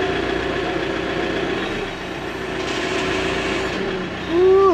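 A loud tractor engine drones steadily, its pitch dipping and then surging as it labors under load near the end.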